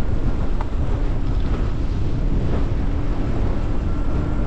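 Heavy wind buffets the microphone while riding a low-cost scrambler ebike outdoors, a constant loud roaring rush with no letup and no voices.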